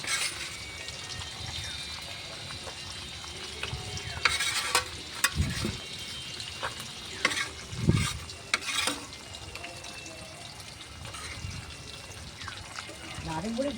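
Fish pieces slid into hot oil in an iron wok, a continuous sizzle with bursts of louder crackling and a few bumps and clatters, recorded close up.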